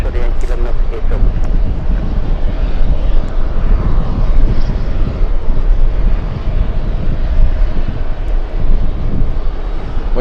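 A Swiss airliner arrives at LAX, its jet roar steady and loud throughout with broadband wind-like rumble, while a voice talks over it.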